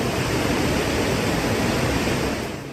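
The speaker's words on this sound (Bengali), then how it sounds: "তুমুল বৃষ্টি গর্জে উঠল মায়াবী ঝর্ণা" Mayabi waterfall in Sylhet roaring under heavy rain, a loud, steady wash of rushing water that fills the whole clip and eases slightly at the end.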